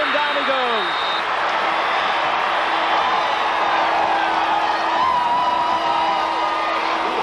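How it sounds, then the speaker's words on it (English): A capacity crowd at Taylor Field roars after a quarterback sack in a 1994 CFL football game, a dense, sustained wash of cheering and whoops with a play-by-play voice talking over it. "Brant Robinson is credited with sacking Kent Austin, to the delight of this capacity crowd at Taylor Field"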